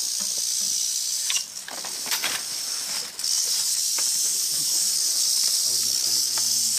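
A rattlesnake coiled on top of a rock in Pennsylvania rattles with a continuous dry, high-pitched buzz that holds steady throughout, close and fairly loud, with a few faint rustles and a brief murmur of voices beneath.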